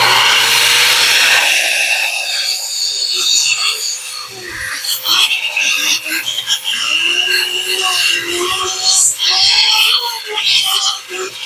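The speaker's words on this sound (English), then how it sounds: "I have to blow it out with air blower" A handheld air blower hisses and roars in bursts while clearing fluff from the top of a chick incubator, loud and close with uneven gusts.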